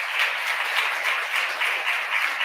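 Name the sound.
audience applause at an inauguration ceremony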